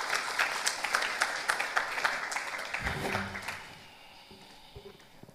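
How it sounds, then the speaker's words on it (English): Audience applause at a civic innovation summit event on stage, a steady crowd clapping for about three seconds before tapering off into low room noise and a few faint sounds. "With a round of applause, everybody."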